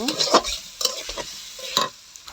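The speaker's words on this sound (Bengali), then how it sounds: "হালকা নেড়ে এখন দিয়ে দিব সয়াবিন তেল পরিমাণ মতো। এখন হচ্ছে নেড়ে দেব।" Food sizzles in soybean oil while a spoon stirs it, giving a bright hiss with a few quick scraping strokes, close and fairly loud over a short stretch, with no voices.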